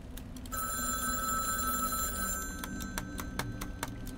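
An old telephone rings steadily in the FNAF free-roam horror game, its electronic bell repeating over a low background music bed with no talking.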